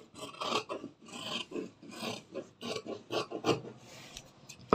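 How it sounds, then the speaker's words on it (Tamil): Scissors snip and rasp through blouse cloth in a tailoring session, a steady series of close, scratchy cuts with no talking. "அப்படியே வளைஞ்சு வளைவு கட் பண்ணிடலாம்."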